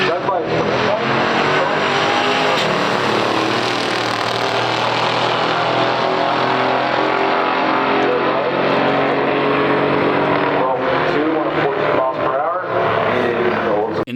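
A 1968 Pontiac GTO Ram Air II and a 1970 Oldsmobile F85 W31 at a stock drag race, a loud, continuous engine roar that swells and holds for the whole stretch, close and dense, with a voice likely mixed in.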